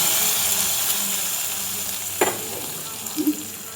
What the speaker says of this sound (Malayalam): ഈ താളിച്ചെടുത്തത് ചാറിലോട്ട് ഇടണം കേട്ടോ.